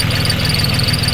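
A used 2018 New Holland TC38R tractor engine idles steadily and loudly, with a constant high whine running through it from a slipping, loose drive belt.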